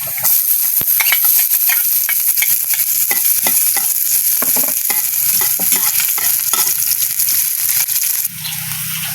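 Chopped onion fries in hot oil in a pan while a mud crab dish is being cooked, giving a loud, steady, close sizzle broken by frequent scraping and stirring clicks.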